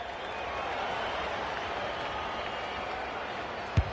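Crowd in the AFL 26 video game at a football match, a steady broad wash of applause and cheering throughout, ending in a sharp thump near the close.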